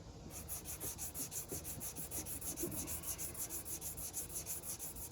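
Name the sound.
sanding custom paint with 320 grit sandpaper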